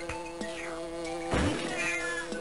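A short, plaintive meow from a cat enemy in Donkey Kong Country 2 rises over a steady insect-like buzzing drone, with no talking.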